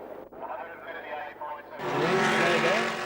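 Holden Dealer Team Torana touring race car on a circuit: a voice speaks over a quieter background, then a loud, sustained engine roar suddenly rises and holds.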